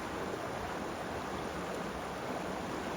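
A river flows steadily on a mountain hike, a constant broadband rush of moving water heard at moderate distance with no voices.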